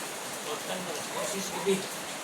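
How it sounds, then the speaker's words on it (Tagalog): Steady rain pattering down, a soft broadband hiss with a few faint drips, fairly quiet and continuous, with no voices. "Nag-ulan man eh."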